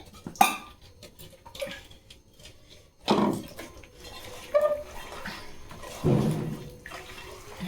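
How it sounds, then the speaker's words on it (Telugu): A mixer jar is rinsed out with a little water while making fish curry, giving several separate bursts of clattering, sloshing rinses with quieter handling sounds between them. "ఈ మిక్సీలోనే కొంచెం వాటర్ వేసి కడిగేసుకుంటే"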